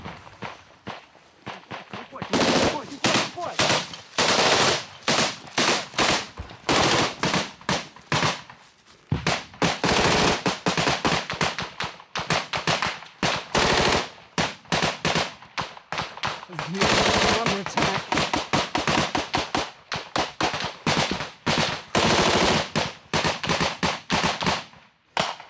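Rapid bursts of gunfire ring out at close range during close quarters combat in a war, with a grenade fired into a tree line; dense, repeated volleys fill most of the stretch, mixed with footsteps and movement and brief voices.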